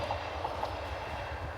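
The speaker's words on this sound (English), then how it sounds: "Probably just hear the train going by" A train rumbles past a cycle track between Kingussie and Newtonmore in the Scottish Highlands, a steady low rolling roar heard from a moderate distance, with no talking.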